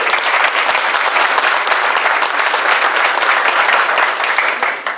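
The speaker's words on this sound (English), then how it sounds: "Let's give a round of applause to your mayor for the great job." A crowd at a funding announcement event gives the mayor loud, sustained applause, dense clapping holding strong for several seconds before easing off at the end.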